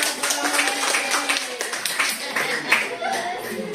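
Classroom audience of teachers clapping at a training session on positive discipline, a dense, steady patter of many hands lasting several seconds with some murmuring and a chuckle mixed in.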